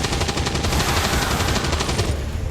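Rapid, loud, continuous gunfire-like bursts as the Grenadier's demolition ability fires in the XCOM 2 video game, a dense rattling barrage with no talking.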